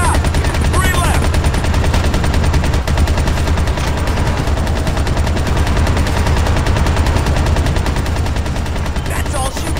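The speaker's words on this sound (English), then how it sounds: "Open fire!" Continuous rapid gunfire from automatic weapons fills a firefight in Ghost Recon Advanced Warfighter 2. The shooting is loud and close and never lets up, with faint shouted voices mixed in.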